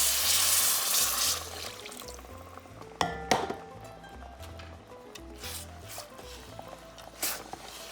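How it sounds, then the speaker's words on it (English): Water splashes and pours into a pan of rice cooking on high heat for a Spanish creamy rice dish, a soft liquid stream with a few sharper splashes and clinks, quiet and near. "Let me add some water."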